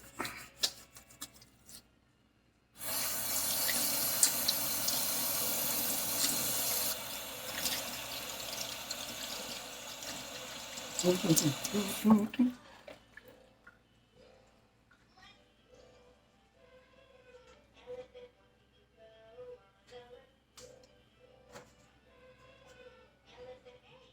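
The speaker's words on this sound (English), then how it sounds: "Now, what I'm going to do, I'll wash my hands real quick." A kitchen tap runs as hands are washed under it, a steady hiss of flowing water lasting about ten seconds, followed by quiet clinks and faint handling sounds.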